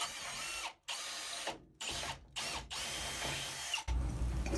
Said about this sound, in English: this is just getting the scale off the threads